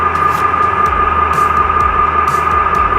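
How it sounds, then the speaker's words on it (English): Steady electronic locomotive sound from a TCS WOW sound decoder in a G scale model engine: continuous loud droning hum with a sustained whine, a few faint hissing bursts over it. "And now we have a different sounding locomotive."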